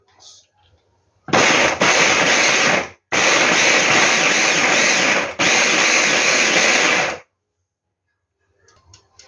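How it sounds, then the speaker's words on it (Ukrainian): A blender purees potatoes, whirring loudly in three long bursts separated by brief pauses, with quiet gaps before and after. "зараз я блендером переб'ю його"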